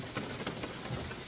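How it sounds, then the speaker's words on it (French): Rain falls on a roof, a steady, soft, even patter filling the background with faint scattered drop hits and no talking. "je suis pas fâchée d'avoir un toit avec la pluie qui tombe"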